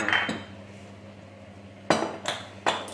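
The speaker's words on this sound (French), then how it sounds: "On mélange rapidement ça." Utensils clink against a bowl while olive oil and ingredients are quickly stirred together in a home kitchen, a few sharp scraping knocks near the start and a cluster of louder clinks toward the end.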